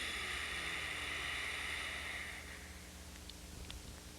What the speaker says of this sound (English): So this one is called the rejuvenating breath.